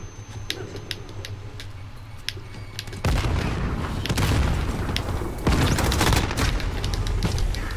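A grenade goes off in Call of Duty: Modern Warfare, a sudden loud blast at about three seconds followed by rolling, crackling battle noise and another burst of heavy gunfire-like booms, with no talk.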